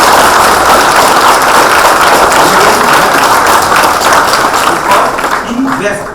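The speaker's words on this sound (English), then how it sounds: "please give a big round of applause to him." Sustained applause from an audience, dense clapping filling the room and tapering slightly near the end.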